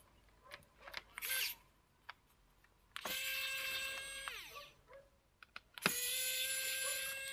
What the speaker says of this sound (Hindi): अभी सारे स्क्रू अपन खोल लेते हैं वन टू दो ही है चलिए इसको खोलते हैं फटाफट से